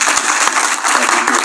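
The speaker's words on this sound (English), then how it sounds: "So now we can clap" Loud, close applause from an audience at a government awards ceremony, with brisk, continuous clapping throughout.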